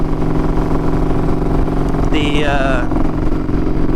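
A custom motorcycle named Eleanor cruises at 65 mph, its engine a steady, loud drone with wind rush throughout, and a brief whining tone rising and falling midway.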